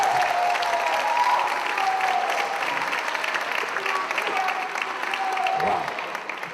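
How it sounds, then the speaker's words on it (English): Sustained audience applause at an inauguration event, a dense wash of clapping with scattered cheers, steady and moderately distant, tapering slightly near the end. "She's gotten the biggest applause in this whole event."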